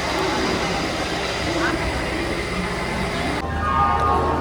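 Busy platform ambience at Howrah railway station in India, with a steady roar of crowd noise, station hum and a passing train, loud and continuous throughout, with indistinct voices mixed in and a brief squeal near the end.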